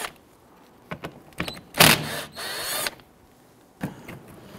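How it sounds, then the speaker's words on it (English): A power tool or screwdriver backs out two 7/32 screws on a 2011-2019 Ford Explorer during front ABS sensor replacement, heard as short mechanical whirring bursts of a few seconds with quiet gaps between, fairly close. "Remove these 2 7/32 screws."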